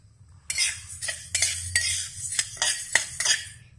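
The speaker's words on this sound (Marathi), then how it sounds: "आता आपली कढई गरम झालेली आहे, आपण त्यामध्ये फुलगे भाजून घेऊ." Horse gram being dry-roasted in a hot kadhai, stirred with a metal spoon that gives a series of sharp, irregular scraping clinks against the pan, close and moderately quiet, with no talking.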